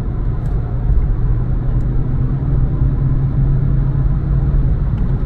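A BMW 220d in comfort mode accelerates hard, its diesel engine revving to about 4,200 RPM, heard as a loud, steady in-cabin rumble and drone that holds throughout without talk.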